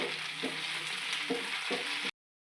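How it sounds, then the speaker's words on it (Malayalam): Capsicum and spring onion being stirred through a chilli chicken pan, a steady broadband sizzle of frying with a few soft scrapes of the spoon, close and continuous before cutting off abruptly. "അതും ഒന്ന് നല്ലപോലെ മിക്സ് ചെയ്യാം"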